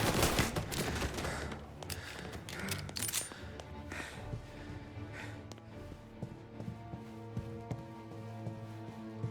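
Gunfire in Mafia: Definitive Edition, dense bursts of shots and rattling automatic fire early on that thin into scattered reports and echoing debris, loud and close, no talking.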